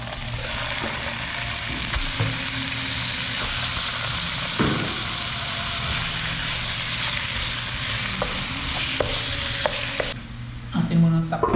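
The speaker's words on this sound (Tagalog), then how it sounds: "Ilagay na natin si chicken." Chicken frying in a pan with sautéed aromatics, a loud steady sizzle up close with scattered stirring clicks, easing off near the end into clattering and handling noises.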